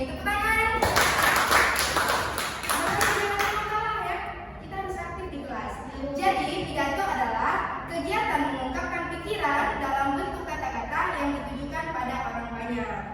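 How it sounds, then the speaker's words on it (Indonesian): Classroom applause for a student breaks out near the start, a short burst of many hands clapping, then fades as children's and adults' voices carry on talking. "Oke, bagus sekali Rizky. Tepuk tangan."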